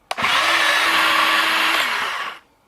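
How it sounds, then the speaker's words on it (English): A bandsaw cuts through an old CV shaft boot, a single steady mechanical whine that starts with a sharp onset, runs loud and close for about two seconds, then cuts off. "I can just take it off with the bandsaw"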